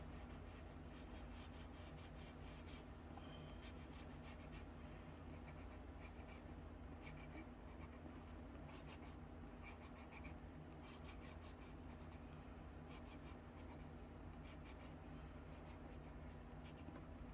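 Kingart gel sticks scratching and rubbing across paper while outlining a drawing, a soft, steady, close-up scrape that continues without a break.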